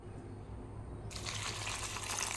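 Water poured into a pot of ridge gourd and sprouted green gram, starting as a steady close rush about a second in and continuing over a constant low hum.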